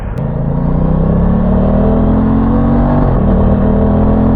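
Aprilia Tuono 660 motorcycle engine pulling hard under acceleration, a loud, close, steady growl with rising pitch and a brief dip around a gear change, filling the clip without talk.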